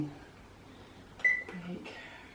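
Beeps from an oven control panel being set to preheat, a bright tone near the middle followed by a couple of shorter electronic chirps in a quiet kitchen.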